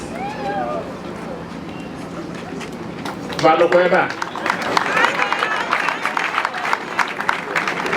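An audience at a state governor's event breaks into applause, a burst of clapping that swells suddenly and then continues as dense, lively crowd noise, following an earlier stretch of speech.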